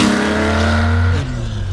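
An air-cooled Porsche 911 ST engine howls at high revs, loud and close, with a sustained tone that drops in pitch as it eases off.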